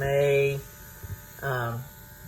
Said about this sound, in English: To mix it up, I turn on the compressor